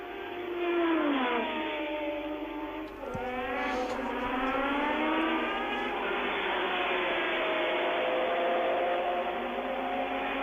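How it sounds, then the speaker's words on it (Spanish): A Formula 1 race car at the 1984 San Marino Grand Prix accelerating at full throttle uphill toward Piratella: a loud, high-pitched engine wail rising through the gears in sweeping climbs, with a brief upshift dip partway. "Acelerando a fondo en la subida hacia la Piratella"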